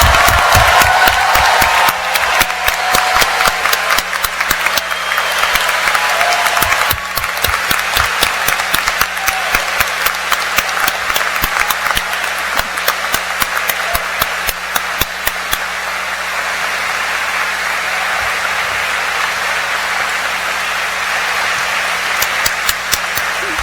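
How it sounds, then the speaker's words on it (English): A large crowd applauds the graduating class of 2017 at a medical school commencement. Dense, sustained clapping runs for over twenty seconds, with sharp individual claps standing out close by and a low steady hum underneath. "let's give a round of applause for the class of"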